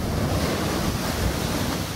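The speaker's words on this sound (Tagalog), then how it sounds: "Napatakbo na ang ilang residente nang biglang umapaw ang alon sa kalsada." Storm surge waves surging over a seaside road in Aurora, heard as a steady, loud wash of surf with strong wind buffeting the microphone throughout, no voices.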